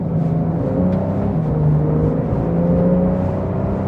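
A Porsche 911 in Sport Plus mode pulls hard along a twisty road, its engine droning loudly with rising and shifting tones heard from inside the car, without talking.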